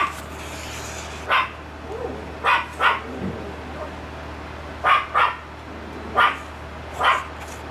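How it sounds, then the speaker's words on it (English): Several dogs bark outdoors in short, sharp bursts, about eight barks in irregular pairs and singles, fairly close and loud against a quiet background. "Sorry about our dogs."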